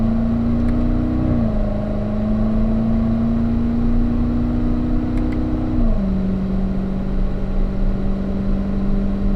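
A car engine on a race track pulls strongly and steadily, its loud tone climbing through the revs, then dropping sharply with each upshift on the way to fourth gear, heard alone with no talk.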